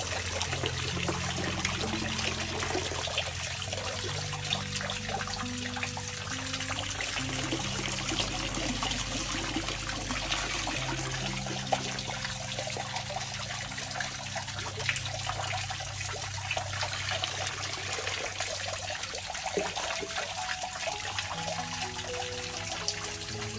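Pond water trickles and pours steadily over potted orchids, a continuous close splashing wash with a low hum underneath and no voices.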